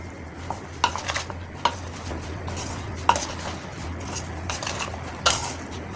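A spoon mixes ridge gourd with salt, turmeric and red chilli in a pot, with a few distinct metallic clinks against the rim over quiet background rubbing.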